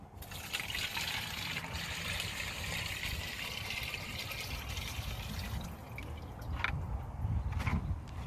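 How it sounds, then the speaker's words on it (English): Water from a gallon jug pours steadily into a gallon sprayer, a continuous close trickling and gushing fill that runs on without talk and swells slightly louder near the end. "So I'm going to fill this bad boy up with a gallon of water."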